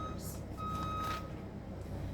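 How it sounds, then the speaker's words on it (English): Construction vehicle reversing in a residential neighborhood, its backup beeper sounding faint and distant: a couple of steady beep tones over low background rumble. "There's a lot of construction going on in my neighborhood."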